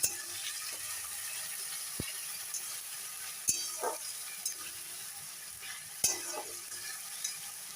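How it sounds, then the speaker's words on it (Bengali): Tomato and ground spice paste sautés in a pan, a soft continuous sizzle with occasional stirring scrapes and clicks of a spatula, fairly quiet and close. "এবারে টমেটো আর বাটা মশলাটা দিয়ে দেবো। সব কষাবো।"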